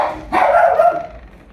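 A pet dog at home gives a single sharp, loud bark close by, then a short trailing whine fading out.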